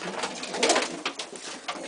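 Homing pigeons cooing up close, a few soft throaty coos rising and falling over under two seconds, clear against a quiet background.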